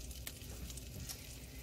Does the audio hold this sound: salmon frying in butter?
yes